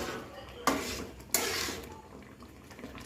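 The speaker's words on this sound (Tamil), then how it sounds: "தொடர்ந்து நம்ம கிண்டிக்கிட்டே இருக்கணும்" A utensil scrapes and clanks against a pot of rice upma twice, followed by softer stirring and faint bubbling, close by.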